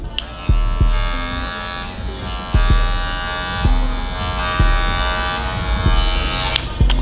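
A worn barber's hair clipper from a beginner kit runs with a loud, steady electric buzz and hum, close up, with a few sharp clicks and knocks breaking through the drone.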